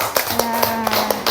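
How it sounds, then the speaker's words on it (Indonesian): A handful of scattered claps from a classroom applauding a student group after its presentation, moderately loud over a steady background hum and faint voices. "Tepuk tangan."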